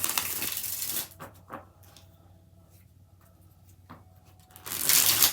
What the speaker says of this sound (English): Four more shuffles.